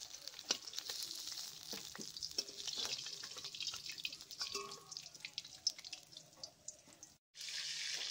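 The remaining shol fish pieces fry in oil, a quieter crackling sizzle dotted with sharp pops and spatters and a short break near the end.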